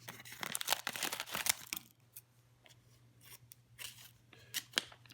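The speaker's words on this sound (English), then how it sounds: "Just cutting this out with my trusty scissors." Scissors snipping through plastic packaging on a wedge of Emmi Le Gruyère cheese, a quick run of close, crisp cuts followed by softer crinkling and a few more snips, quiet and with no talking.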